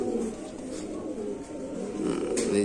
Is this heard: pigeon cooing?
yes